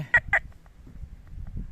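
Two short, sharp electronic alert beeps from a Quest X10 Pro metal detector in quick succession, close and fairly loud, followed by low rumbling handling noise.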